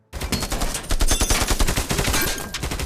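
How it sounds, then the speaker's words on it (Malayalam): Rapid, dense gunfire from a film action scene, sustained bursts of machine-gun shots overlapping continuously for a few seconds, loud and close with no talking. "ആളില്ലാത്ത സ്ഥലത്ത് എന്തിനാണ് വെറുതെ വെടിവെച്ച് ഉണ്ട വാഴാക്കണേ?"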